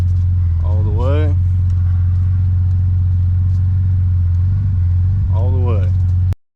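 A Nissan 300ZX engine idles steadily and loud with a deep constant rumble, a slicktop car whose power steering is being bled, while a whining steering pump sweeps up twice as the wheel is turned.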